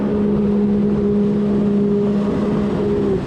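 A 2025 Yamaha JetBlaster personal watercraft engine revs hard and holds a high, steady whine during a wheelie on the water, loud and close, dipping slightly near the end.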